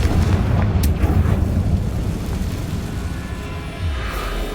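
A Confringo blasting spell bursts in Hogwarts Legacy, a loud, dense rumbling roar that fills the low end and sustains for several seconds with a faint crackle on top, no talking.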